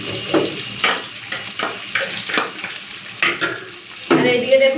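Potatoes frying with turmeric powder in a pan, stirred with a utensil: a steady close sizzle broken by repeated scraping strokes at an uneven rhythm, with no talking.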